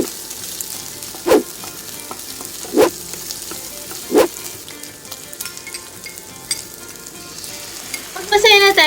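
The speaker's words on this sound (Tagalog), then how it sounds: "piprituhin lang natin to in medium to low heat for about 15 to 20 minutes" Beef for salpicao sizzles steadily in a pan over medium-low heat, with three sharp stirring clatters spaced about a second and a half apart and a busier scrape near the end.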